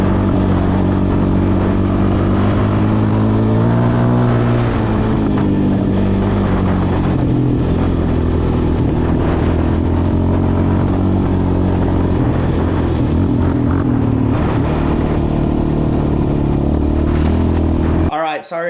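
A Yamaha Raptor 700R quad ATV engine drones loud and close during a ride, its pitch rising and falling steadily with throttle and continuing unbroken almost to the end.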